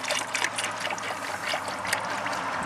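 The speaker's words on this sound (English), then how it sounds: "Putting the antifreeze in." Antifreeze pours from a container into the radiator of a 1998 Sonoma pickup, a close, steady gurgling trickle with small splashy fluctuations and no voices.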